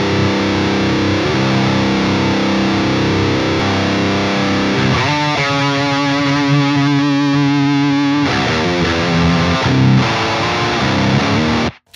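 Electric guitar played through effects with heavy distortion and endless sustain, a loud, dense drone that holds steadily, changes to a brighter ringing chord partway through, then cuts off abruptly, with no talking.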